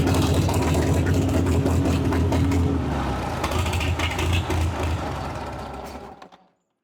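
A barn-find Farmall H tractor engine runs after a carburetor rebuild and a homemade gasket, a loud, rough, steady low chugging for about six seconds before cutting off abruptly.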